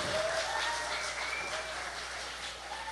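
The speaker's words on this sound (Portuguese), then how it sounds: "palmas para o Senhor" A church congregation applauds, a soft, dense, continuous patter of many hands heard from a distance at low level, steady throughout with no voices standing out.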